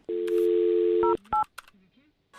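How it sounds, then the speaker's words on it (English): Telephone keypad dialing in the Paralives life-sim game: a long steady dual tone, then two short beeps in quick succession, followed by faint scattered clicks and tones. "I'm going to dial his phone number right now"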